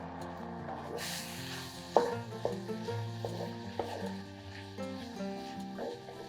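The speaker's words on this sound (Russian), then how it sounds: "Готовим их на большом огне, периодически перемешивая." Mushrooms sizzle in a hot dry pan over high heat while a utensil stirs and scrapes now and then, producing a few sharper knocks; no one speaks.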